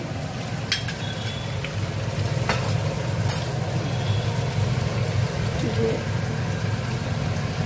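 Ginger paste with cumin powder, cinnamon and cardamom frying in oil, a steady loud sizzle with occasional stirring scrapes and clinks over the crackle.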